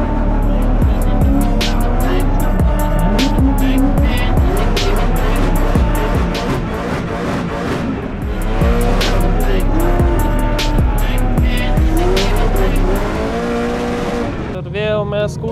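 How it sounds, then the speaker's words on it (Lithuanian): A drift car warms its tires at a racing event. The engine revs loudly and continuously with shifting pitch, and tire squeal rises throughout, close and dominant, until it cuts off near the end. "pasišildau padangas."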